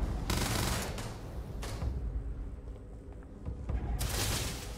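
Gunfire in Starfield comes in rapid bursts of automatic shots, loud and close, separated by short gaps of rumbling combat ambience and echoing reports.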